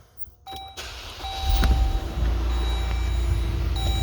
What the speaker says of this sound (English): I'll start up the car.